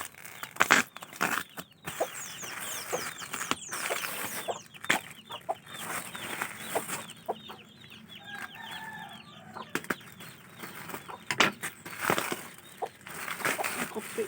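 Chickens clucking and fowl moving about on a farm, with scattered wing flaps and bird calls at moderate distance, continuous over a low outdoor background.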